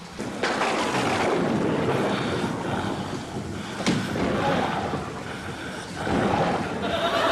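A stormy wind roars and gusts in a scene from the TV show Only Fools and Horses, a loud continuous rush with surging swells and a sharp crack near the middle.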